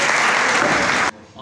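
Audience applauding at a mushaira poetry gathering at a college in Rawalpindi, a dense, loud wash of clapping that stops abruptly, leaving a quiet room with faint murmuring.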